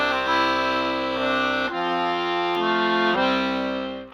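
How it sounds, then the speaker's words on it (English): An accordion plays the Amazing Grace melody in a few sustained, reedy notes that shift pitch slowly, loud and close, then fade out at the end. "The song Amazing Grace can sound like this."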